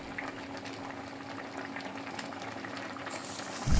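Semai simmering in a pot as about 150 grams of sugar goes in, a steady close bubbling boil that holds evenly throughout, with a brief louder rustle at the very end.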